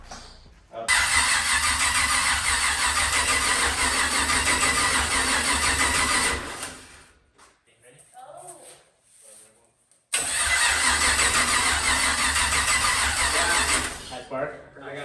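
A 6.2 engine swapped into a chopped 1939 Chevy hot rod fires up loudly, runs in a steady roar, cuts out into quiet with faint voices, then restarts and roars again.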